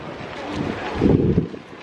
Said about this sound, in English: it's windy as shit right now